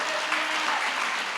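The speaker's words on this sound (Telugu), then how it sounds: "గట్టిగా చప్పట్లు కొట్టండి" Congregation clapping at a prophetic ministry church service, a brief burst of loud, dense applause from many hands filling the room.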